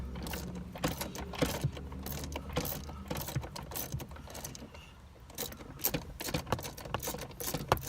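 A ratchet clicks rapidly and steadily while bolts are tightened on Jeep grab bars, with a close, continuous metallic ratcheting and faint knocks running through the whole stretch.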